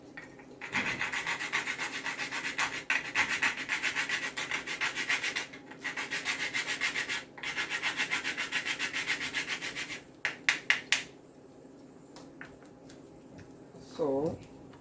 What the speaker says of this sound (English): Also gonna grate some nutmeg.